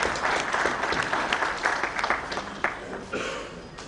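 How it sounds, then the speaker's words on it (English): Audience applause for guests and dignitaries at the inaugural ceremony of a smart city event in Bihar, a steady wash of many hands clapping that fades slightly near the end. "Let's give a big round of applause to all our guests and dignitaries."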